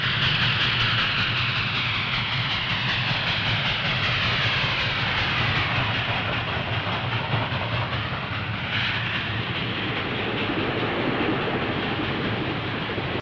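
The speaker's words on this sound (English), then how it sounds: "Train 97, the northbound King Cole, emerges from the Phoenixville Tunnel." Reading Company northbound passenger train King Cole, Train 97, emerging from the Phoenixville Tunnel: a steady, loud rumble and roar of the passing train that holds continuously throughout, with no voices.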